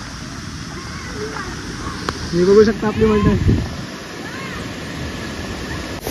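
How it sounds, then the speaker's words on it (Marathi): Steady rushing roar of a waterfall crashing down throughout, with someone talking over it in the middle. "इथनं असं पाणी येत आहे ना खाली आपटत आहे"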